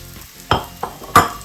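Mushrooms fry in sesame seed oil in a pan, with a steady soft sizzle and three sharp scrapes or stirs spaced out over a second and a half. No talking.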